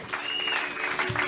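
Congregation clapping in church during a French thanksgiving service, a brief burst of dense, steady applause from a crowd filling the room, close and fairly loud throughout.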